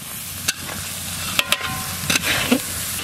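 Onion, ginger and garlic fry in hot oil with dry chilli, cumin and turmeric, a loud close sizzle broken by a few sharp spatula knocks and stirring scrapes.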